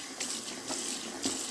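Tap water runs steadily while a cleaning rag is wetted under it, a close, continuous hiss and splash with a few small surges as the cloth moves in the stream.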